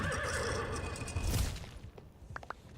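In a video game, a horse gives a loud whinnying neigh with hoof clatter beneath, then the sound fades and leaves a few faint, scattered clicks.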